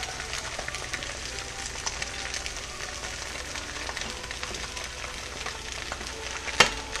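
Eggs sizzle steadily in a nonstick pan for an over-easy breakfast, a continuous close crackle with one brief sharp tap near the end and no talking.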